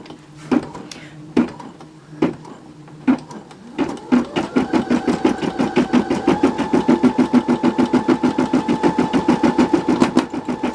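An embroidery machine stitching an in-the-hoop Christmas ornament on tearaway stabilizer, opening with a few sharp isolated clicks, then a fast, loud, steady chatter of stitches with occasional pops as the thread catches on knots underneath.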